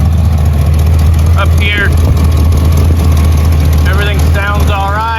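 A 1984 Chevrolet Corvette with a carbureted engine and a suspected exhaust leak idles with a steady, loud, low rumble, while someone talks over it.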